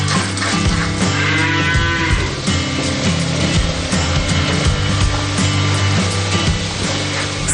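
Friesian Holstein dairy cows low at a dairy farm in Pondok Rangon, East Jakarta, with a long drawn-out moo rising over steady barn and background noise.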